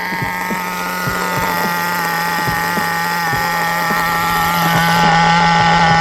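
A small nitro RC car engine, a T3.0 or G3.0, idles with a steady high buzzing drone and a faint ticking rattle underneath, close by and loud, rising slightly toward the end.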